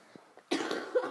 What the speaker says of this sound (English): See, I just coughed.